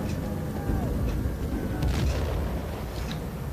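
Gunfire in Battlefield 1943 on the Guadalcanal map, heavy booming shots and rumble under steady battle noise, with a voice speaking over it.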